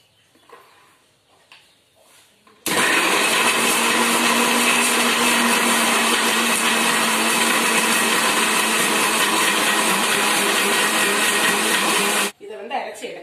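A kitchen blender grinds nuts and banana for a smoothie, starting abruptly into a loud, steady whirring roar that runs about ten seconds before cutting off, with faint voices before and after.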